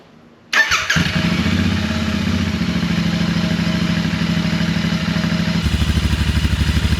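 A Royal Enfield motorcycle with its stock exhaust starts up close by and settles into a loud, throaty idle with a steady, rhythmic exhaust putter.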